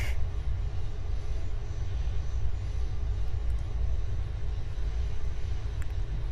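A KR-860 aircraft in the Aeronautica game flies over Seoul International Airport, its engine a continuous heavy low drone that holds steady and loud throughout, with no one talking.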